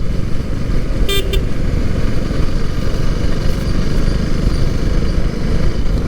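A Hero Splendor motorcycle idles with a steady, rough low rumble close by, and a brief horn toot sounds near the start.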